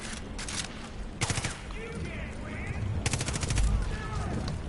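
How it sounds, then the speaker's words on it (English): Bursts of rapid automatic gunfire in a video game, two dense volleys with scattered shots between, loud and close over steady background noise. "Dude, I just dumped like 18 bullets into you,"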